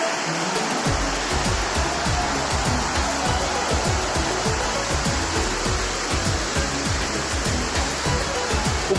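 A waterfall on the Napittachora trail in Bangladesh roars as a broad, steady wash of rushing water heard from above, loud and unbroken throughout.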